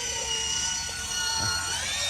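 A power drill whirs steadily with a high, sustained mechanical whine, held at constant speed at fairly close range, with faint low thumps underneath and no talking.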